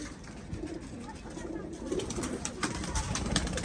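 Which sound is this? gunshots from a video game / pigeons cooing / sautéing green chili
pigeons cooing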